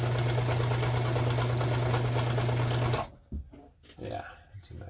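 A Kenmore 158.17740 sewing machine sewing a blind stitch hums steadily and close for about three seconds, then stops, followed by a voice talking over small handling sounds.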